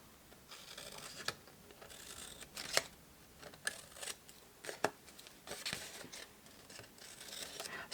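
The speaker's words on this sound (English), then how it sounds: "I'm cutting down the straight of the rectangle and cutting into those squares" Scissors cut through card for a lidded lily pad box, making quiet close snips and crisp crunching clicks in an uneven run of cuts.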